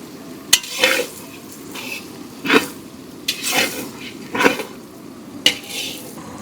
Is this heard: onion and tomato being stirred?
yes